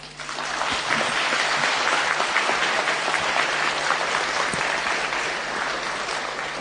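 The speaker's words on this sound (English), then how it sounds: "We have big applause to thank Professor Smith." Sustained audience applause thanks a professor after a university lecture on global market economics, a dense, steady clatter of many hands that holds at an even loudness throughout with no talking.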